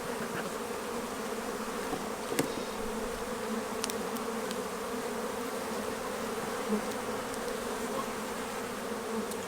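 Honey bees buzz at an open hive during a weekly inspection, a steady, moderately quiet drone with the occasional louder bee passing close by, without any talking.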